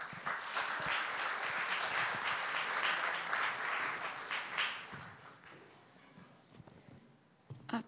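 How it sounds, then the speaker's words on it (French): A lecture audience applauds to welcome a speaker onto the stage, steady dense clapping that holds for several seconds and then thins out and fades, with a few scattered claps near the end. "Vous pouvez l'applaudir, merci."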